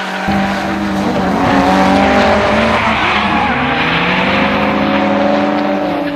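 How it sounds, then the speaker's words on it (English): Drift cars in a competition run roar through the final corner, engines loud and close with screeching, skidding tyres and shifting engine pitch sustained throughout. "Through the final corner, Isles found space to execute a clean pass"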